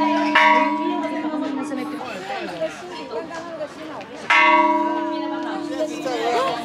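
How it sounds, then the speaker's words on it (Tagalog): A bell rung by visitors at a crowded tourist site in Panglao, Bohol, two clear resonant strikes that ring out and decay, with people chattering around it. "Let's ring the bell."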